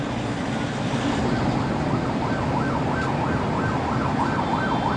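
An ambulance siren wails steadily in repeated rising and falling sweeps as it passes along a city street near a hospital. It sounds fairly close over traffic rumble.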